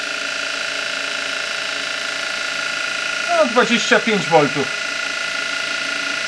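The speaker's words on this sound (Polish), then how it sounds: "jak fajnie ten silnik przy tym stosunkowo niskim napięciu 25 V, jak fajnie i w sumie szybko się obraca" A replacement type 300 motor from a Zelmer vacuum cleaner spins at a low 25 volts from a transformer, giving a steady, thin whirring whine throughout. Someone speaks briefly partway through.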